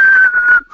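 A person whistles a single sustained, slightly wavering tone that dips in pitch, then briefly falls silent and resumes more quietly, close and clear with no talking.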